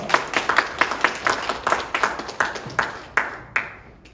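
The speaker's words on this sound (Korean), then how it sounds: "큰 박수로 모시겠습니다." A crowd claps in a steady burst of applause at a seminar, fairly close, fading into a few final scattered claps near the end.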